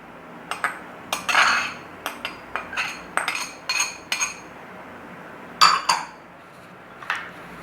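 Cucumber and onion pieces dropped into a bowl for a chickpea salad, a series of close, distinct clinks and knocks at an irregular pace with brief pauses between them.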